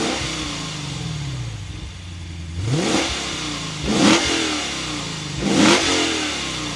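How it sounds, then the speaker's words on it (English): A Lexus RC F Track Edition V8 fires up and then revs three times in sharp, roaring bursts that fall back to idle between them. The sound is close and loud, with no talk. "But let's fire this up, take a listen to how that V8 sounds."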